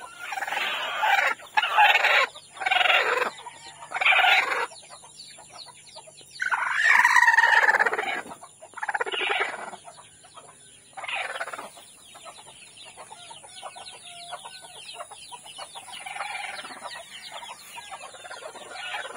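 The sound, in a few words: chickens clucking outdoors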